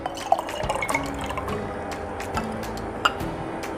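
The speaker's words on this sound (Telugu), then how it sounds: "కాచిన గోరువెచ్చని నీళ్ళు తీసుకున్నాను. అందులో నేను సీడ్స్ వేసుకుంటున్నాను" Soaked chia seeds drop into a glass of warm boiled water with soft drips, splashes and small glassy clinks, faint and close, with no talk.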